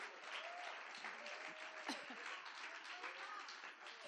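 A congregation gives strong applause at a religious gathering, continuous dense clapping heard faint and distant, with voices calling out over it.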